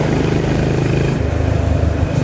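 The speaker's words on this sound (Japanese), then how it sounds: "排気音がいつまでも連続的にならないのが本当にこのバイクの排気系のいいところだと思います" Honda GB350S single-cylinder motorcycle cruising in fourth gear on a Tokyo expressway at night, a loud close thumping exhaust pulse with steady low engine drone and a slight shift in pitch midway, no talk.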